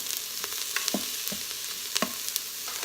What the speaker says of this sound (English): I'll be back in a minute after these sizzle and cook a little bit.